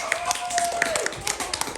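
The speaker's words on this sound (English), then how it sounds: "Clap it up for him if you will." A tour group claps for a volunteer at the Michigan Mystery Spot in St. Ignace, a scattered round of hand claps of moderate loudness, with a voice talking over it.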